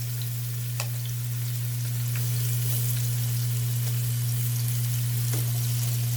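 Pork searing in a pot, a loud continuous frying sizzle with occasional small pops over a steady low hum, no talk.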